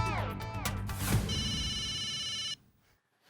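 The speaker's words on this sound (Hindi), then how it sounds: "बीडे अंकल का फोन" A telephone rings with a bright repeating electronic tone over busy mixed sound in a Gokuldham housing society setting, then cuts off abruptly, leaving near silence.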